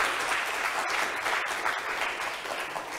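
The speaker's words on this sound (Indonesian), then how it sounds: "Boleh kita berikan tepuk tangan yang meriah?" An audience applauds steadily during a marine governance seminar in Indonesia, a dense, even wash of clapping throughout with no voices over it.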